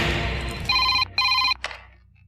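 An old-style telephone bell rings in two sharp electronic bursts with a short gap between them, then fades out. It comes from a Hindi-dubbed South Indian action movie scene, close and clear, with no talking over it.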